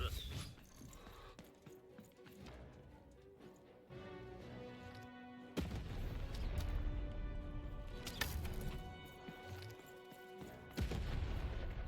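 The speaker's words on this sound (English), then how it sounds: "Shoot the button to fire the cannon." Heavy booming cannon blasts from the video game Lost in Random, with deep thuds and crashes rising in layers, mixed with mechanical clatter and background music.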